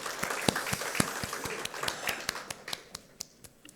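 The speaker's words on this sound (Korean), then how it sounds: "우리 찬송 가운데 임하신 하나님께 감사와 영광의 박수 올려드리겠습니다." A sparse congregation claps during a Sunday church service, with sharp, distinct handclaps in a loose rhythm rather than a dense roar, thinning out toward the end.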